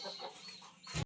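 Chickens cluck at a henhouse on a small farm where the hens are laying eggs, a few close, moderately loud calls that swell into a louder burst at the end.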